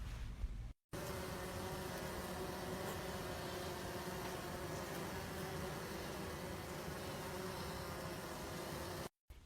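A swarm of thousands of honeybees buzzes in a steady, dense drone, close and continuous, briefly cut off at the start and end.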